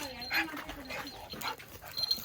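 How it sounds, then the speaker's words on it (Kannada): A dog whimpers and pants close by in short, soft bursts, partly mixed with nearby talk. "ಇಲ್ಲೊಂದು ನಾಯಿ ಐತೆ"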